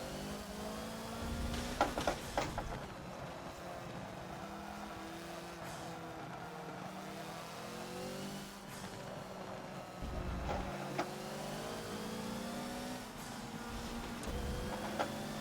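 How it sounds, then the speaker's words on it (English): Hoonigan Focus race car in Forza on the Lime Rock track, its engine revving up and down through accelerations and shifts, fairly quiet and steady with a few louder bumps. "Let the car out."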